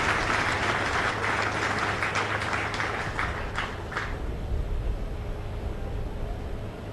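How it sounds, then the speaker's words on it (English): Sustained applause from a large crowd, steady and fairly loud, with dense clapping that thins slightly toward the end. "please deserve another resounding applause"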